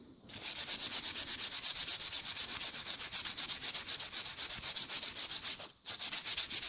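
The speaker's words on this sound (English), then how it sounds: "Try to sand along the grain of the wood as best you can." Sandpaper rubbed back and forth along the grain of a poplar or white oak board, a close, loud run of steady rhythmic strokes with a brief pause near the end before the scraping resumes.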